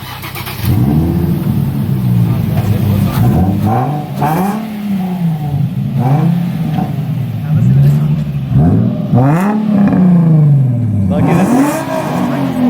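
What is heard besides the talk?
sports car exhaust revving with pops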